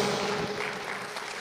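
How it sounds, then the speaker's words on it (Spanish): A church congregation applauds together in a brief, dense burst of clapping that stays steady and fairly loud throughout. "Dale un fuerte aplauso a Dios"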